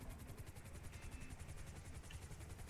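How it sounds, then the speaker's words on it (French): Helicopter rotor blades thump in a fast, steady rhythmic chop over a dense engine rumble, faint and continuous throughout with no talk. "Il s'en va chercher son chum en hélico."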